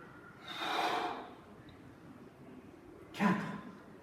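Two forceful breaths out during a home fencing workout, the first longer and broader, the second a short sharp puff near the end, with quiet room tone between them.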